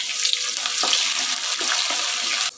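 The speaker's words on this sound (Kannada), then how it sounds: "ಕಡಿಮೆ ಉರಿಲೇ ಫ್ರೈ ಮಾಡಬೇಕು." Onion frying in oil on a low flame, with urad dal, for a sweet corn and dill leaves rice: a steady, close crackling sizzle with a few soft stirring clinks, cutting off abruptly at the end.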